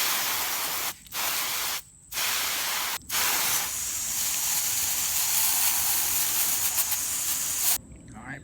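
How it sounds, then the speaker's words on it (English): Water from a garden hose sprays forcefully onto rubber RC crawler tires in hissing bursts, stopping briefly a few times before running in one long continuous stream, then cutting off. "Now I take a water hose and I spray off what I can."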